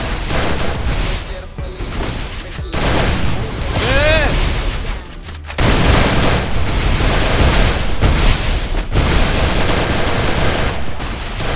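Gunfire in the Garena Free Fire video game: dense, rapid bursts of automatic shots and booms, loud and close, with someone talking excitedly over the shooting.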